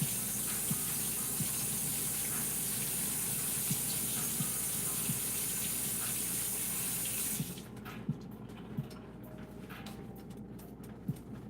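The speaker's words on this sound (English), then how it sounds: "let me rinse my hands off first" A faucet runs in a steady, loud rush as hands are rinsed under it, then shuts off about two-thirds of the way through, leaving quiet room sound with a few faint knocks.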